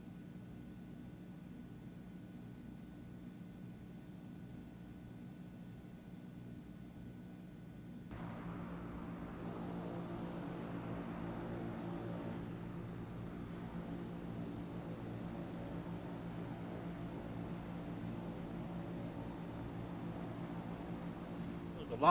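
Propeller aircraft engines drone steadily in a flight simulator game, a low constant hum that grows louder and adds a high whine partway through as power comes up.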